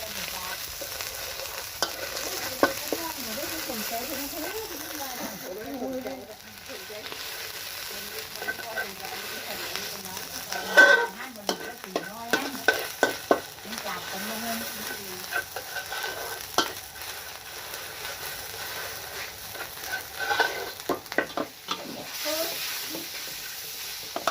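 Pork jungle curry stir-fried in a pan, a moderate steady sizzle with bursts of clattering stirring and scraping, close, with a faint voice murmuring underneath at times.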